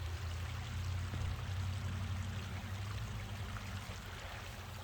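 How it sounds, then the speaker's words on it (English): Steady rushing water flows continuously on a ranch, a broad even stream or small cascade heard up close with no voices. "Can you hear the water?"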